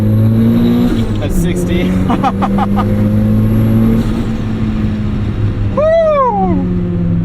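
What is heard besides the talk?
Mazda Miata accelerating hard in first gear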